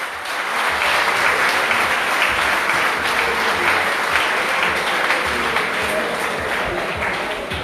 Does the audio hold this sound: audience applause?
yes